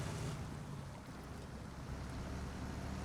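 Truck in SnowRunner ploughing through deep water, a continuous dense wash of splashing and churning over a low engine rumble, steady and fairly close.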